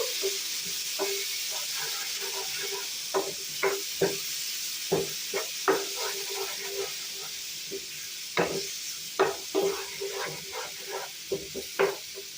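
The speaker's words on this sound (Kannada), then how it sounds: "ಜಾರಿಗೆ ಹಾಕೊಂಡಿರೋ ಟೊಮ್ಯಾಟೋನ ಹಾಕಬೇಕು ಹಾಕೊಂಡು ಫ್ರೈ ಮಾಡಬೇಕು" Ground tomato paste frying in a pan for paneer masala gives a steady close hiss, broken by frequent sharp spatula scrapes and taps in an irregular rhythm.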